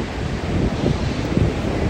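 Sea surf rolls onto a beach in a steady, broad roar, mixed with gusty wind buffeting the microphone and no voices.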